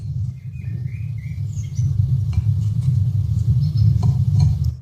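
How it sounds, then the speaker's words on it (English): Small birds chirp and tweet outdoors in short high calls scattered over a constant low rumble, the calls faint to moderate and coming from a little distance. "I can hear the birds."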